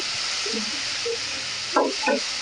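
Tomato and onion being stirred in a sizzling pan for masala dosa filling, with a steady fry hiss and two short, close scrapes of a spoon near the end.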